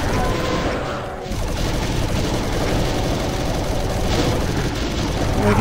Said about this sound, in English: Just plasma spam.